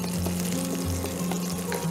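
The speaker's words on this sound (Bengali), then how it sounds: "চলো এগুলোকে হালকা করে ভেজে নিচ্ছি" Fennel seeds and green chilies frying in hot oil, a close steady sizzle with faint crackles and a low hum beneath.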